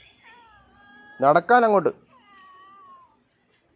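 A pet cat gives a loud two-part meow close by, preceded and followed by softer whining calls, with a person talking quietly in Malayalam around it.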